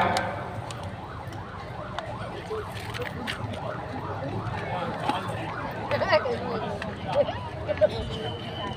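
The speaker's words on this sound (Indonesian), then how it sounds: "jangan mengganggu ambulan, tolong dikasih jalan jamaah" An ambulance siren wails in a steady rising and falling pattern under a crowd's chatter at a large Maulid religious gathering in Beureunuen, Aceh, with a voice speaking over it.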